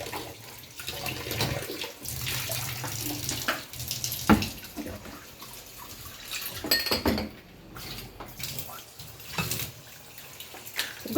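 Running tap water splashing steadily as something is washed under the faucet, with clatter and handling noises and occasional voices.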